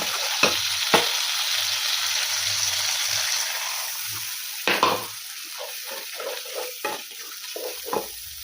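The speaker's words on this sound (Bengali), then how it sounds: "এই যে আমার এটা ফুটে উঠেছে, মশলাগুলো কষানো হয়ে গেছে" Ground spice paste fries and bubbles in a pan for a Bengali potato curry. A steady close hiss carries sharp stirring scrapes and taps, with small pops and bubbling bursts toward the end and no talk.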